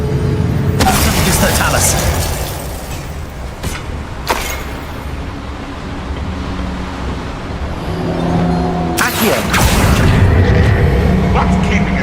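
A Bombarda spell blowing up in the video game Hogwarts Legacy, a loud booming burst with a second heavy blast near the end over continuous rumbling game sound, while someone talks over it.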